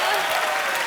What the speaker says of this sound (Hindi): दोनों के लिए जोरदार तालियां हो जाए